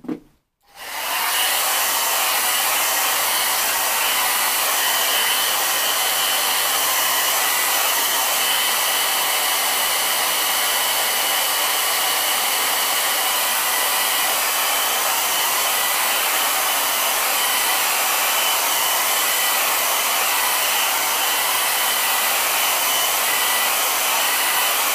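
A hair dryer is switched on to dry a watercolor painting and runs steadily at a loud, constant whooshing roar for the whole stretch, with no talking.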